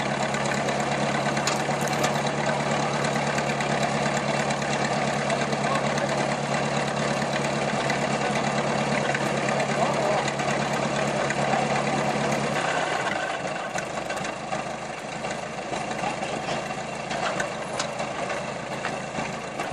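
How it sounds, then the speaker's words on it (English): The engine of a 1914 harvester runs steadily with a loud, continuous mechanical drone and rattle, dropping to a lower, rougher hum partway through. "The engine roars as it rolls into the field, not as a museum relic, but as a working legend"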